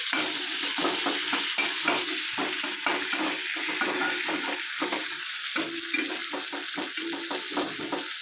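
Onions fry in sunflower oil until brown, giving a steady loud sizzle with repeated scraping stirs of a spoon against the pan.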